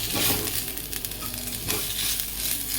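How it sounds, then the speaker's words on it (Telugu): Ginger garlic paste fries in a pan, a close crackling sizzle with a few stirring scrapes and soft clinks, fairly steady over a few seconds, with no voices. "చూడండి, అల్లం వెల్లుల్లి పేస్ట్ బాగా ఫ్రై అయింది కదా"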